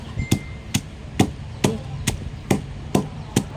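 Ingredients pounded in a mortar with a pestle for a Lao mushroom curry, eight sharp, evenly spaced thuds about half a second apart, close and loud.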